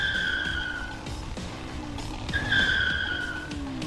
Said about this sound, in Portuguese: Agora o motorista ultrapassa e corta o caminhão correndo em zigue-zague.